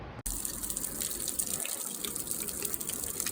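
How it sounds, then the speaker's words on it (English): A tap runs in a steady gushing stream into a water bottle, close and continuous, with a brief click at the start, outdoors on a mountain road trip in the Swiss Alps. "Just filling my water bottle here"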